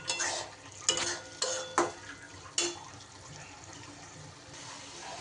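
Fried eggplant being gently stirred into a spice mixture in a pan, with several sharp utensil scrapes and knocks against the pan in a slow, irregular rhythm, close and fairly clear.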